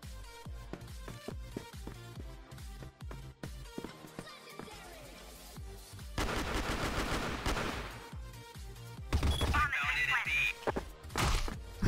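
Gunfire in the online shooter CrossFire, rapid machine-gun bursts and single shots rattling close by, growing louder toward the end with crashes and impacts, while players talk over the action.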